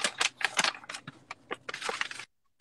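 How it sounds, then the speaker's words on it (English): A promo code is tapped out on a keyboard in quick, uneven clusters of sharp clicks with brief pauses, ending in silence. "I'm typing it in."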